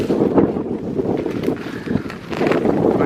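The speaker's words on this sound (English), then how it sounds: "That wind is crazy." Strong wind roars steadily across the microphone outdoors while dead elm is cut and skidded with a Massey tractor, gusting louder in waves throughout.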